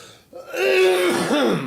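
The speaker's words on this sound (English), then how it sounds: "I was going to try not to cough in your face" A harsh, raspy throat-clearing cough from a person with a cold erupts close to the microphone, rough and drawn out for about a second.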